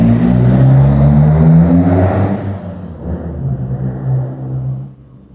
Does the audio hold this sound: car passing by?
yes